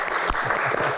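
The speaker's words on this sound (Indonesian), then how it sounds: "Tepuk tangan." Brief burst of audience applause at a televised talk-show Q&A, dense clapping heard at close, even loudness for a moment.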